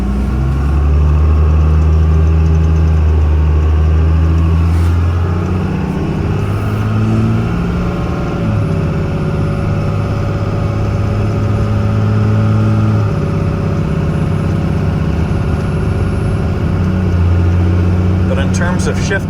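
A 2001 stacked Cummins diesel truck pulls away from a stop, its loud engine rising and shifting through gears with strong low harmonics, close and continuous throughout.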